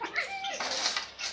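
A cat gives one short, close meow that rises and then bends down, followed by a breathy hiss-like trail.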